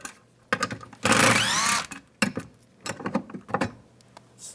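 A ratchet with a 7mm socket backs out two bolts holding a bracket inside a 2015-2020 GMC Yukon door, giving quick close bursts of clicking and a short steady whir, with quiet pauses between.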